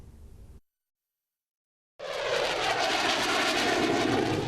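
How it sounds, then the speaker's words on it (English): Joint Strike Fighter jets fly at an aviation show, giving a loud, broad roar. It breaks off after a short silence, then returns as a steady, dense jet rush with no talk. "generation of fighter jets took centre stage at the aviation show yesterday"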